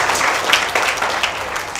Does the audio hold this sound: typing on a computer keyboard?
no